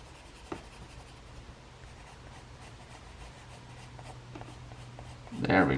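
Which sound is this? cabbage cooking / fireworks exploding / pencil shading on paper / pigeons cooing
pencil shading on paper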